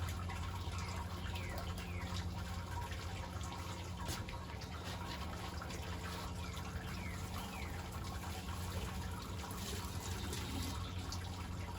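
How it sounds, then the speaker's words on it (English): Sparge water pours and trickles steadily into a vessel during beer brewing on a Grainfather, a constant close splashing flow with faint drips and no voices. "Collecting our sparge water."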